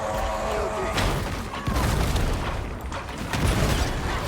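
Explosions and bursts of combat noise in the video game Darktide, loud booming blasts and crackling pops layered over a busy, dense background.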